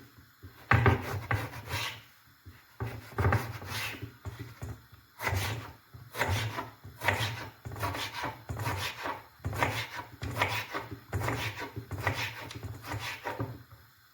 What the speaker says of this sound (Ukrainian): Нарізаємо баклажани кубиком.